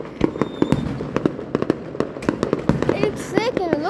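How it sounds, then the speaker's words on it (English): Fireworks at an outdoor show bang and crackle in a rapid, irregular barrage of sharp, close bursts, with whistling rockets rising near the end, while people talk excitedly beneath the blasts. "This is the second firework which is happening again."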